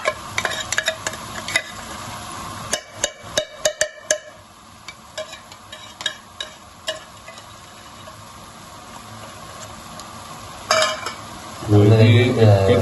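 Tuna going into a pan with two large spoons of olive oil, heard as scattered spoon and metal clinks against the pan with a faint background hiss, ending in a louder burst of sizzling and scraping.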